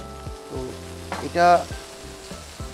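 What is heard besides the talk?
oil sizzling on stuffed chicken breast in pan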